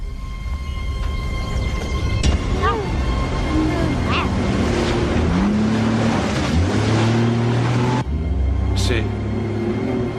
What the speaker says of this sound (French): C'est un moteur qu'on entend.